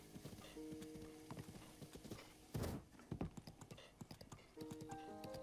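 Horse hooves clip-clop in Zelda Breath of the Wild, a quick rhythmic run of clear hoofbeats with a louder thump midway, then the trotting resumes beside soft game music tones.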